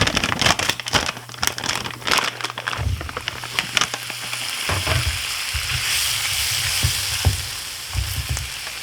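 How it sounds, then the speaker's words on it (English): Shrimp go into a hot pan for Cajun-style shrimp pasta and break into a loud, crackling sizzle. Sharp pops and utensil clatter come through early, then the frying settles into a steady, hissing roar. "Now time to add that shrimp."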